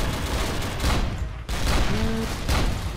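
Gunfire in the game Dino D-Day comes as a dense, loud, continuous rattle of shots with a brief gap midway, then carries on at the same intensity.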